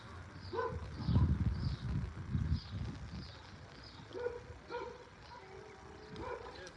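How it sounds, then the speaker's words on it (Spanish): Several dogs barking and yipping in welcome at a family home near Piedras Negras, excited bursts of barks with whimpers, fairly close, between quieter pauses. "Hasta los perros le dan la bienvenida a su tío"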